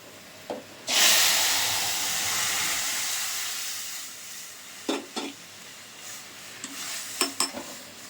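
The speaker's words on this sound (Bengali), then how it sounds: "ফোড়নটা ভাজা হয়ে গেছে, এবার ডালটা দিয়ে দিচ্ছি।" Masoor dal poured into a hot fried tempering sets off a sudden loud hissing sizzle that fades slowly, followed by scattered clinks and scrapes of stirring in the pot.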